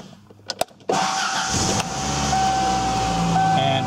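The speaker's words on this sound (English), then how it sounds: "when we cranked the engine over to the start position" A car engine cranks over and catches after a couple of clicks, then settles into a steady, loud idle close by.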